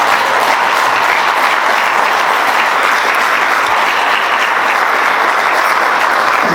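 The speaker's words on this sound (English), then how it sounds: "stand up and we'll give you a round of applause" A large crowd at a young farmer of the year awards ceremony claps loudly and continuously, a dense even wash of applause with no talking over it.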